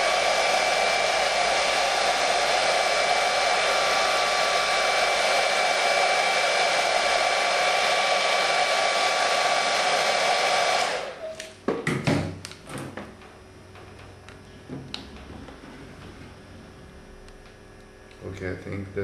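A heat gun blows hot air over vinyl graphics on a 2009 Honda Fireblade gas tank. Its steady, loud whirring hiss runs for about eleven seconds, then cuts off, and soft taps and handling noises follow.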